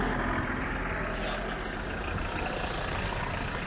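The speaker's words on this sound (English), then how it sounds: "Lovely ZX Volcan turbo diesel as well. That is a beauty, following them out." Citroen ZX Volcane turbo diesel driving out at a car show event, a steady, dense engine drone with broad rumble held evenly throughout, no voices.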